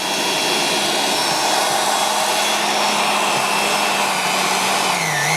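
Wolf tool post grinder motor, rated around 8,000 RPM, running steadily with a loud, continuous high-pitched whine and airy rush throughout, with a slight pitch dip near the end.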